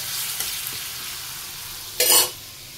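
Onion and tomato fry in a pan with a constant close sizzle, a few faint taps from a spoon, then a sharp loud burst of hissing as the pan is stirred, fading back to a steady crackle.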